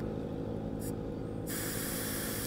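A steady burst of air hissing out of a motorcycle tire starts partway through and continues loudly to the end, over a low engine-like hum.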